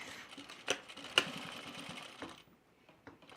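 A sewing machine stitches a seam on a laundry basket project in short bursts of rapid mechanical whirring with a few sharp clicks, close and alone, fading out near the end.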